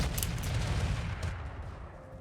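Rapid, heavy bursts of mech cannon fire in a BattleTech-style video game, including an AC-20 autocannon, loud and dense with booming low end, several overlapping shots that slowly fade toward the end.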